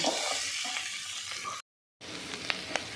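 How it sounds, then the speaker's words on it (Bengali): Boiled, peeled jackfruit seeds and potatoes stirred in hot oil, a soft frying hiss with light spoon scrapes, briefly cut to silence before the sizzle and a couple of sharp clicks resume. "এবার তেলের উপর একটু ভালো করে নাড়াচাড়া করে নিচ্ছি"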